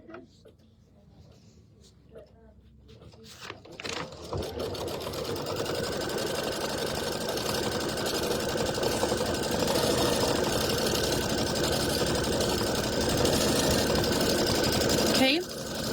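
A sewing machine quilting a fabric block starts after a few quiet seconds and then runs as a steady, loud mechanical whir for most of the stretch before stopping near the end.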